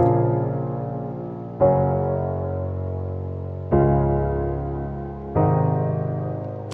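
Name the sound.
four-chord piano progression for a progressive house song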